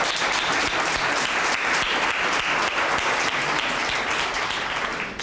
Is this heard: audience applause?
yes